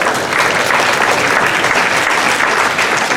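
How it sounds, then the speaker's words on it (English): Steady, dense applause fills a school hall as the audience claps for a beginner band at an end-of-year concert, loud and continuous without a break. "give yourselves a round of applause"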